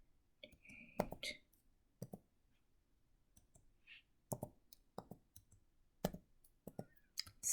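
Calculator keys pressed in short bursts of sharp clicks, close and fairly quiet, with pauses between entries while working a linear regression and correlation practice problem.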